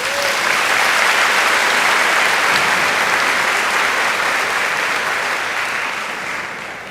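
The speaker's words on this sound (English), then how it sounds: "Please give the stage guests a round of applause." Dense, sustained applause from a large high school graduation audience for the stage guests, loud and steady before gradually tapering off near the end.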